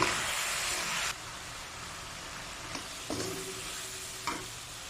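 Tomatoes tipped into garlic frying in a pan for Ilocos bacho. A loud hissing sizzle suddenly drops to a softer bubbling, broken by a few close clinks and scrapes of stirring.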